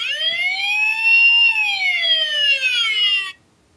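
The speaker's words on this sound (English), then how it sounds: "He makes a siren noise." A Transformers Dark of the Moon leader-class Sentinel Prime toy figure, in truck mode, sounds an electronic siren. The loud, wavering wail sweeps up and down for over three seconds, then cuts off abruptly.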